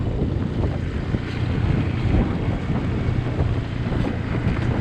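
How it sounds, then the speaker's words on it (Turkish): Strong, cold wind roars steadily across the microphone, a dense continuous rush with a low rumble underneath and no voices. "Çok rüzgar var ya."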